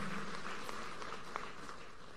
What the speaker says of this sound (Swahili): Tumpigie makofi rais wetu.